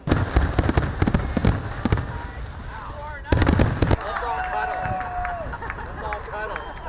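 Bangs and crackles from a small-town fireworks show in Shelby burst through the whole stretch at steady, fairly loud levels, with a crowd murmuring and people talking underneath.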